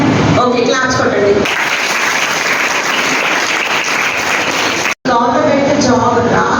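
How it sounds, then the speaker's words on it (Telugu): Students at a model school girls' health awareness session break into loud, dense clapping for about three and a half seconds, with talk just before and after it. "ఓకే, క్లాప్స్ కొట్టండి"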